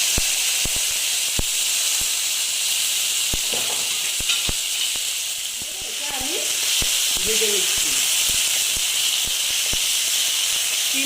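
Chopped tomato and a pinch of asafoetida sizzle in a hot frying pan while aloo dum is cooked. A continuous bright hiss runs throughout, with sharp crackling pops scattered over it and brief quiet talk in the middle.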